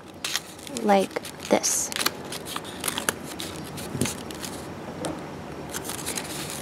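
Paper for an origami rose crinkles and creases in short crisp rustles and snaps, close by and fairly quiet, under a voice speaking briefly.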